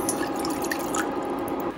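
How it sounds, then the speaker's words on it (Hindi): About a cup of water poured into a small pan on a kitchen stove, a steady trickling splash with bright spattering, continuous and close for a couple of seconds. "उसमें मैं डाल रही हूँ 1 कप पानी उबलने"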